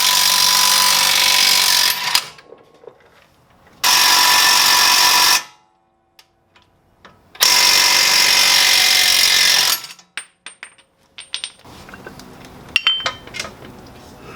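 A press installs a suspension bushing on a G35, driven by a loud power tool in three long, harsh, roaring bursts with short gaps, followed by scattered metallic clanks and rattles.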